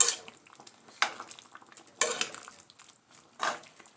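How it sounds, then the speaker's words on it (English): Beef stew with mushrooms stirred in a pot, four bursts of spoon scraping and clinking against the metal, each fading into a soft bubbling simmer, close and clear. "Give this another mixing here, another stirring."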